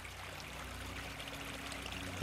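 Water streams steadily through an underground desert canal in Turpan, a continuous soft rushing and trickling flow with no voices, even in level throughout.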